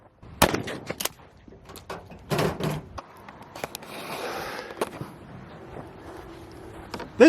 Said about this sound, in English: Let's chamber load one in this shotgun. Close it up, give it a try at 5 yards.